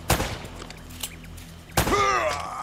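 Gunfire in the video game Uncharted: Drake's Fortune, a sharp shot opening the clip, then a fainter crack and a second loud burst, with a bright ringing tone trailing the last one.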